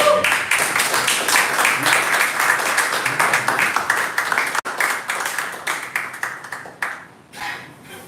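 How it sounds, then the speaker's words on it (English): Loud, dense applause from a poetry evening audience welcoming a featured poet, a steady roar of many hands that holds, then thins and trails off in uneven bursts near the end. "May I have a huge round of applause?"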